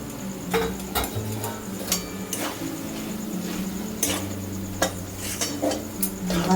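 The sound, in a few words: sautéing potatoes with grated coconut in a pan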